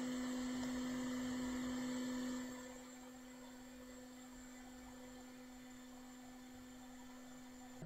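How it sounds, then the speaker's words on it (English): Hot air rework station heating a chip on a 2017 MacBook Pro 13-inch logic board: a steady blowing hiss with a constant tonal hum, louder for the first two seconds and then settling lower, with no talk. "Let's heat it up once again to get all the balls in place."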